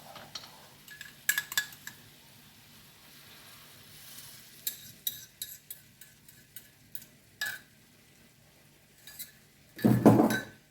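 Eggs are stirred in a hot pan for a Chinese-style shrimp dish, with soft sizzling under a series of light utensil clinks and scrapes, ending in a louder burst of scraping and clatter.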